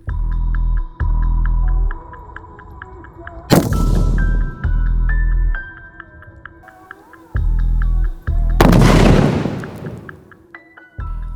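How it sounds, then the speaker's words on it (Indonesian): Two sharp, heavy fish bomb blasts go off several seconds apart, each dying away quickly, over a low throbbing engine hum that pulses on and off. "Lumayan deg-degan kami saat menyaksikan ledakan bom ikan begitu dahsyat"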